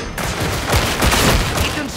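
A rapid, loud volley of gunfire from the video game Warhammer 40,000: Darktide, with dense overlapping shots that keep going for the whole moment.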